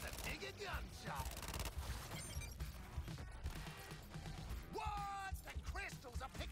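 Gunfire in the video game Suicide Squad Kill the Justice League, with rapid bursts of shots, crashes and impacts overlapping in loud, chaotic succession amid electronic effects and a game soundtrack.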